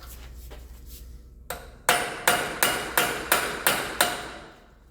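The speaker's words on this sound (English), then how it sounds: "So I'm going to try to get that free by using a chisel or a punch or something." Metal hammer blows strike a chisel or punch to free a CV axle on a 2014 Acura RDX 3.5 AWD. A few softer taps lead into seven sharp, evenly spaced, ringing strikes, close and loud.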